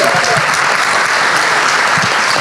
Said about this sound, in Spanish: un aplauso para Erika